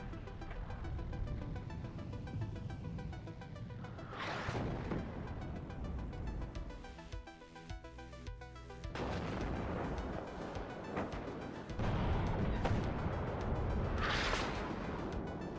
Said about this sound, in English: Artillery is going to start putting out rounds.